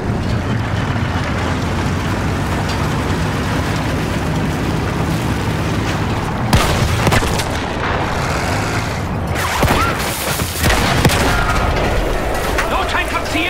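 Loud, continuous gunfire and heavy booming explosions from the World War I video game Battlefield 1, dense and close, with shouted voices mixed into the clamor of combat.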